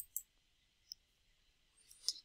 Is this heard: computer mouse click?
yes